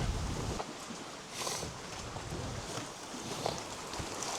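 Steady wind gusts rush over a boat moored off an island, a constant broadband roar with rising and falling swells and faint creaks and knocks of the hull, no voices.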